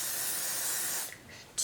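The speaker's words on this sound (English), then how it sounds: "I'm gonna just spray it onto the brush directly" Way medium hairspray misted straight onto a hairbrush: a steady close hiss lasting about a second, then a short, sharper burst at the end.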